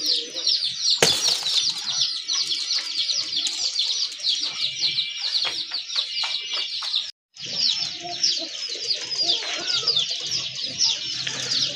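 Domestic pigeons flap their wings in brief bursts amid constant chirping and calls from many birds nearby, with one sharp loud flutter early on and a short dropout near the middle.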